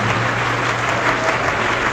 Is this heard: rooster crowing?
no